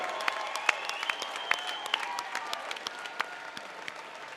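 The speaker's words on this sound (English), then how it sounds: "one more round of applause for a fantastic fight" An arena crowd at a welterweight MMA event applauds after a three-round fight, a steady clapping wash with sharp individual claps and whistles standing out, under a faint voice.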